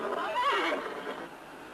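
A horse gives a single shrill, wavering whinny near a corral in a western film scene, close and clear, fading into a quiet tail.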